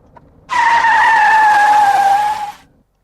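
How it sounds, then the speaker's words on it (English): A car's brakes are slammed and its tires skid in one loud, sustained squeal lasting about two seconds before fading out abruptly, close and alone. "I could slam on the brakes"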